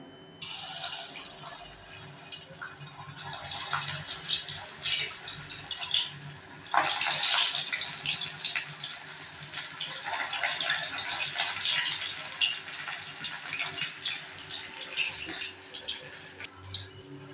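Potato chop balls hiss and sizzle steadily in hot oil in a kadai, a dense crackling fry that flares louder as more balls drop in, close and without talk.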